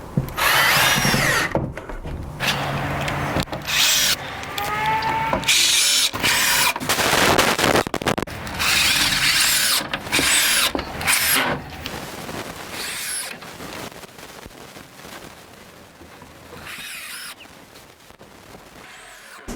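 A power drill drives screws into plywood for garage storage shelves, heard as repeated loud whirring bursts with short pauses between them, close to the listener.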